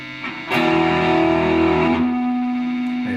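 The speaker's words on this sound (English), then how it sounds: "let's put a little distortion on it" A Squier Bullet Strat electric guitar played through distortion rings out with a sustained, buzzy chord that swells in, holds steadily and then shifts to a slightly lower sustained tone, alone and fairly loud.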